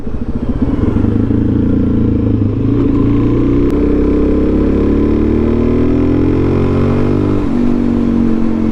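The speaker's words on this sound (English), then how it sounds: "Man, this bike's pretty quick." A Suzuki DRZ400SM supermoto motorcycle is ridden with a loud, close engine roar, its pitch climbing and falling as it revs. The drone runs unbroken throughout, with no voices.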